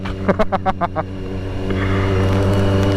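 A Kawasaki ZX25R sport motorcycle engine revs in several sharp bursts, then settles into a steady, loud, buzzing, wasp-like drone up close.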